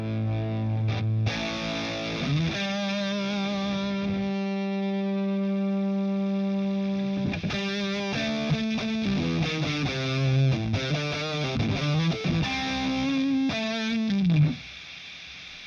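A heavily distorted electric guitar rings out sustained chords and bends through a Nembrini Audio Cali Dual amp on its high-gain third channel, loud and saturated, with no talking.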